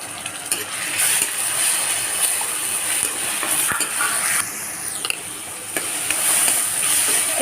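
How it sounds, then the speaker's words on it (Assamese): Ginger-garlic paste sizzles steadily in hot oil in a pan for mutton, with a continuous bright hiss and occasional scraping of a spoon stirring it, close and fairly loud with no talking. "এইখিনি আদা নহৰু কেঁচা গোন্ধটো যোৱালৈকে মই ভাজিলোঁ"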